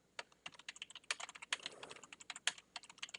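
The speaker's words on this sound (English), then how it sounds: "it's as simple as going Add Comment, typing in your appropriate comment" Someone types a comment on a computer keyboard, a quick irregular run of crisp key clicks, close and fairly quiet, with no talking.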